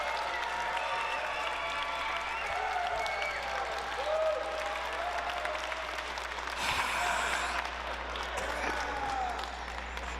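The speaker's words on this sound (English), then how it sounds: "And the crowd goes wild." Wrestling crowd at a POW! event roars after a triple drop kick and standoff, a dense, steady wall of cheering and clapping that swells near the middle.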